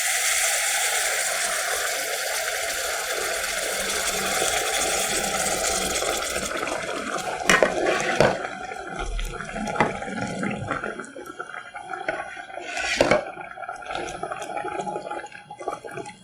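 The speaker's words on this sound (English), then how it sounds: "Pour some this soup here" Soup poured into a pot for Korean gochujang stew, a steady liquid splashing and gurgling that thins into scattered drips and clinks of the pot.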